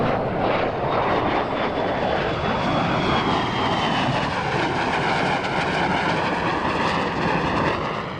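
A MiG-17 jet flies past at a warbird airshow, its engine a loud, steady roar that fills the whole stretch, with a slowly shifting whine as the aircraft moves.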